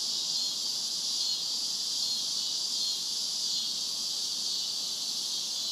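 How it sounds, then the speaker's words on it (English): Cicadas buzz outdoors in a steady, loud, high-pitched drone that holds constant and unbroken throughout, with no voices. "So Charlie, what do you think about those cicadas?"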